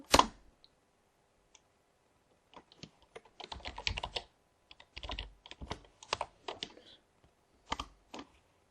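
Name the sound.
typing Cisco router commands on a keyboard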